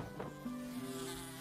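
Flies buzz in the Indonesian meatball-stall game Bakso Simulator Indonesia, with a steady, close insect whine that carries through the whole moment and has no talk over it.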